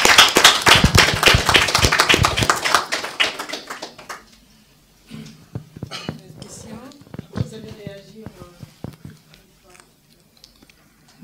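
Applause from an assembled audience at a book presentation, with dense, loud clapping for about four seconds that then thins into scattered taps and a quiet murmur of voices.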